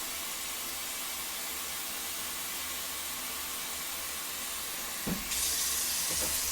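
Water runs steadily into a pot for bone broth, a continuous hissing rush that changes and grows brighter near the end as the pot fills.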